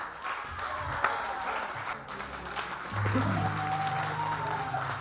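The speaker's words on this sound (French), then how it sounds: "on l'applaudit, monsieur" Applause from a comedy club audience celebrating a staff member's birthday, steady crowd clapping across the whole stretch, with some voices and a low sustained tone mixed in, rising slightly toward the end.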